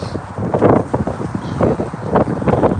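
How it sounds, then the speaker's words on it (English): Gusty cold wind blows outdoors in the snow in Iowa, a rough, buffeting rumble on the microphone that rises and falls unevenly, close and fairly loud throughout. "it's cold as hell and the wind blowing"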